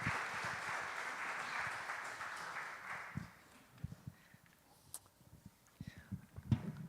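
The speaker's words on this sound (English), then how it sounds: "Could we get one more applause for all the lovely poets that we have here?" An audience applauds the poets at a poetry reading during a Sunday gathering. The clapping is dense and steady for about three seconds, then thins into a few scattered claps and shuffling footsteps.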